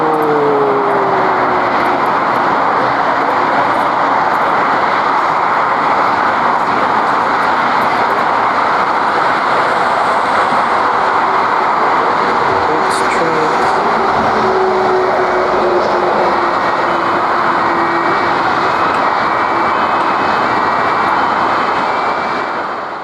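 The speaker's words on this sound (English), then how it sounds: "this Lufthansa Airbus A320 that suffered an engine failure" A Lufthansa Airbus A320 on its takeoff run while suffering an engine failure: a loud, continuous, broadband jet roar that holds steady with a faint sliding tone underneath, heard close with no talk.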